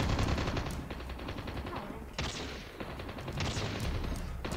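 Rapid bursts of AK117 rifle fire in Call of Duty Mobile, loud and dense automatic shots in long strings with brief gaps, close and continuous over a game background.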